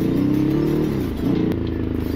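A 2016 Ducati Hypermotard 969 motorcycle ridden over a rough, bumpy road, its engine holding a close, steady droning hum that briefly dips and recovers, with faint rattling and wind in the background.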